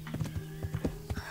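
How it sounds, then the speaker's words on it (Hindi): Hooves of a ridden horse clip-clop at a steady trotting rhythm in the medieval video game Kingdom Come: Deliverance, close and even, with a faint steady hum underneath. "वाह, वैसे अभी ये घोड़ा स्मूथ चल रहा है।"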